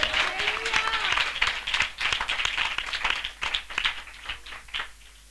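An audience at a Hindi church sermon about Jesus claps, a sustained mass of hand claps at moderate distance that thins toward the end, with a voice speaking over it.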